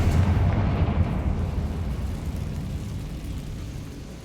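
A Confringo blasting spell from the Hogwarts Legacy video game erupts in a loud, rumbling explosion that stays dense and sustained, slowly easing off without any voices.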